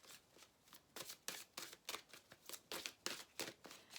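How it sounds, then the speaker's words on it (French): Message cards are shuffled close up in rapid, rhythmic riffles, about a dozen crisp papery bursts over a few seconds, with no talk. "Alors, on va prendre des cartes maintenant,"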